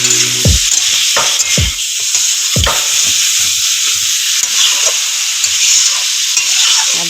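Chicken curry with potatoes stirred in a pan: a steady, bright sizzle runs throughout while a spoon drags through the pot in several distinct scraping strokes, loudest early on, with no voices.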